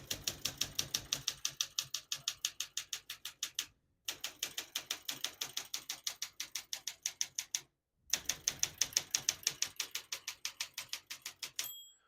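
Rapid, steady keystrokes from a 1966 Olympia SM8 manual portable typewriter, loud and close, typed in three runs separated by short pauses, with a brief ring near the end.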